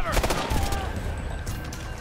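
Rifle fire in the video game Ghost Recon Future Soldier, a short burst of several sharp shots in quick succession, close and loud, with a faint voice in the background.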